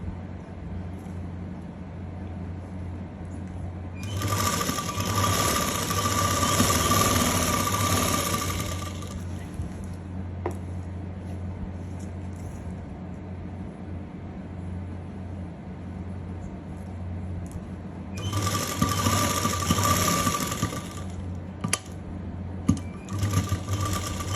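Sewing machine stitching elastic lace in two bursts of fast, steady whirring, the first about five seconds long and the second shorter, separated by a quieter pause with faint background hum.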